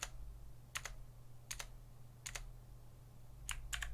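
Sparse key clicks on an AJAZZ AK33 RGB mechanical keyboard, several isolated presses, some in quick pairs, crisp and close against a faint low hum.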